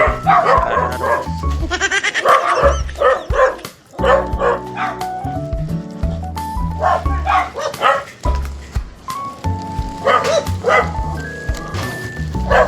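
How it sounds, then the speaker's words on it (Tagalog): Several dogs bark loudly and repeatedly in Navotas City, overlapping yips and barks close by, with brief pauses between bursts. "daming aso guys."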